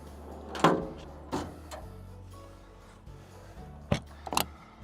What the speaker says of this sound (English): look how easily these slide in there